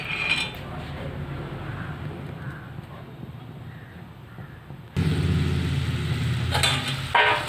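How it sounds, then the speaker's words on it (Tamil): Sugar syrup boils in a heavy-bottomed pan, giving a steady bubbling sizzle that grows louder and busier in the second half, with faint clinks. "இப்போ பாருங்கள், சக்கரை நல்லா கொதிக்க ஆரம்பிச்சிருச்சு."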